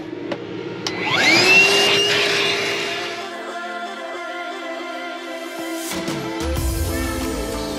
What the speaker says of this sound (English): We also got the Milwaukee cordless vacuum.